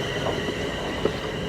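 Train on the East Lancs Railway rolling past nearby, a steady rumbling hum of wheels on track with faint squeals and no speech over it.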